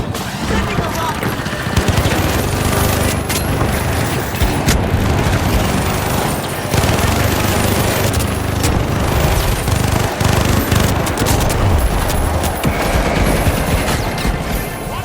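A minigun fires in the online shooter The Finals. It sounds as a loud, dense, almost nonstop rattle of rapid shots, mixed with explosions and in-game voice callouts.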